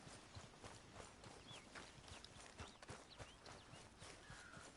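Horse hooves clip-clop steadily across the ground in Red Dead Redemption 2, a continuous, evenly paced walking rhythm over a broad wash of ambient game noise, with no talking.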